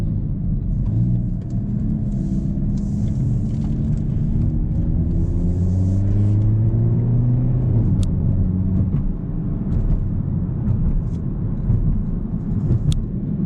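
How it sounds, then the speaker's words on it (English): A Hyundai i30 N hot hatch driving in Sport mode with its exhaust valves open gives a steady, loud low rumble, the engine tone rising and shifting as it accelerates, heard from inside the car with no talking. "You get that extra rumble from the exhaust, open valves."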